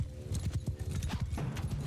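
Horse hoofbeats from the Mount & Blade II: Bannerlord video game form a rapid, continuous clip-clop of several horses, fairly close and without talk.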